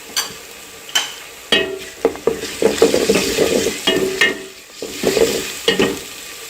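Crushed garlic and ginger sizzle and crackle steadily in a hot pan while a spoon scrapes and stirs in bursts, with sharp clinks against the metal.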